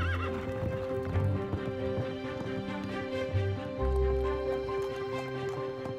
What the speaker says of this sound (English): He owned a stable full of fine-blooded horses and enjoyed taking long rides through Central Park.